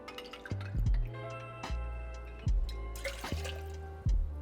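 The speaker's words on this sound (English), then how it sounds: "So we're gonna start with 2 ounces of that, 2 ounces of apple cider" Apple cider poured into a glass for a fall cocktail: a steady close trickle of liquid with several sharp clinks and knocks of glass and ice at irregular intervals.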